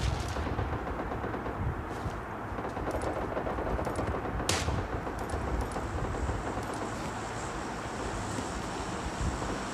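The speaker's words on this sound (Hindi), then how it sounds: "कोई तो शॉट दे रहा है मुझे" Gunfire in the battle royale game PUBG Lite, with scattered shots over a steady windy outdoor ambience and one sharper, louder crack near the middle.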